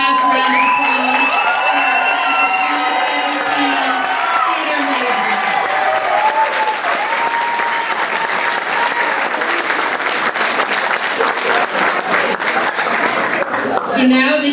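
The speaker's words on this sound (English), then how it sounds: "One last round of applause" Loud sustained applause and cheering from a high school graduation audience for theater majors, with whoops and shouts over continuous clapping for about fourteen seconds, voices faintly mixed in.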